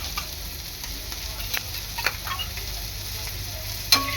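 Ginger garlic paste frying with browned onion in hot oil, a steady low sizzle with soft scraping stirs and a sharper clink near the end, no voices.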